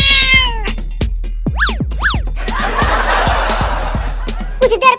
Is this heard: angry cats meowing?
yes